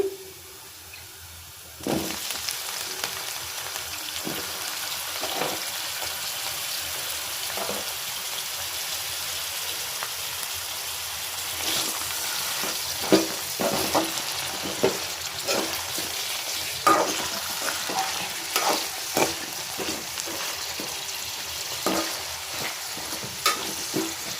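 Onion and drumsticks hit hot oil in a kadai and sizzle loudly and steadily, with occasional stirring scrapes and knocks throughout.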